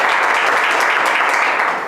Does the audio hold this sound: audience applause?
yes